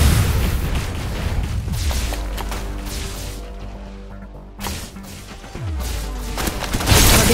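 Heavy gunfire and booming blasts from Snowbreak: Containment Zone, dense and loud throughout, with a short lull midway before another burst of shots and impacts.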